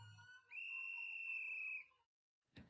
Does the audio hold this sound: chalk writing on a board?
no